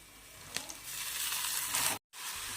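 Washed peas tipped into a pan of frying onion and green chilli, giving a steady close broadband sizzle that swells briefly, cuts out for a moment, then resumes.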